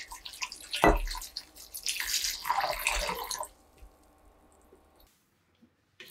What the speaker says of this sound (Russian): Заливаю холодной водой и пусть ждет своей очереди.